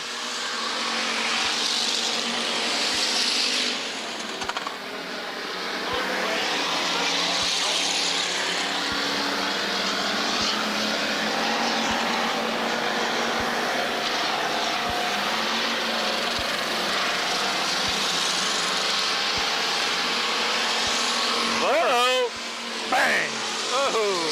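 Race cars roar around the Minneapolis Raceway oval in a heat race, their engines a continuous loud drone while an announcer talks over the track noise.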